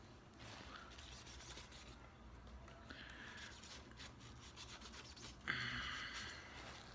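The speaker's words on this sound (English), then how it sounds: "So basically just lightly scrub the areas." Light scrubbing of scuff marks off a painted shoe, soft close rubbing strokes in an uneven rhythm, growing a little louder and harsher toward the end.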